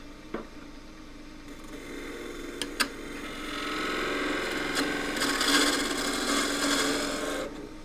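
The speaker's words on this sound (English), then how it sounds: "the next tool which comes to hand is actually a square end scraper. I'll just use that as a peeling cut." A square end scraper takes a peeling cut on wood spinning on a lathe, giving a steady rasping, scraping tone that swells and continues for several seconds after a few brief knocks near the start.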